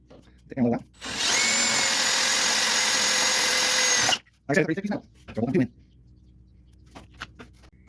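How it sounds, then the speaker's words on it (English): A power drill whirs loudly and steadily for about three seconds, drilling a mounting hole for a winch control box on a mower, bracketed by brief bursts of voice and clatter before and after. "We'll drill the second one where we want it."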